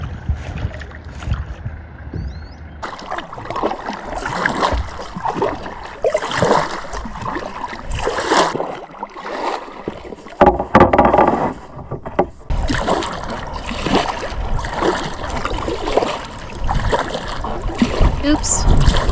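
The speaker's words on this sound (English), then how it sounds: "So, not a big hardship, just gonna paddle back." Paddle strokes and water splashes from a small boat heading back to the dock on Mirror Lake, close and rhythmic, with wind noise and a person talking over them at times.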